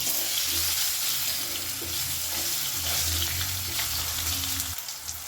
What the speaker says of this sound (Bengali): আলুগুলোকে বেশ কয়েক সেকেন্ড ধরে একটু নাড়াচাড়া করে ভেজে নেব